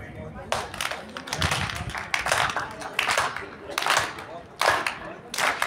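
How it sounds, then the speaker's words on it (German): A live audience at a talk in Göppingen claps together in a steady rhythm, bursts of hand claps repeating roughly every second or so, fairly loud and close with a roomy crowd feel. "Und deshalb möchte ich euch um einen kleinen Klatschrhythmus bitten"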